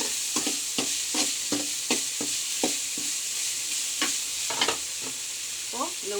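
Chopped green chillies frying in a pan with oil, stirred by a spatula in regular scraping strokes over a steady close sizzle, with no talk.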